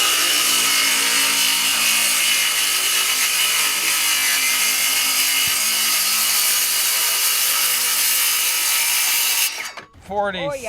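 A 20-volt battery power saw cuts through a plywood subfloor inside a bus conversion with a loud, steady, gritty whine that runs for about nine seconds, then stops abruptly before a voice speaks.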